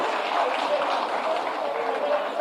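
Loud, dense applause from a large crowd at a government appointment-letter ceremony for teachers in Patna, a continuous even roar of clapping filling the whole moment without breaks.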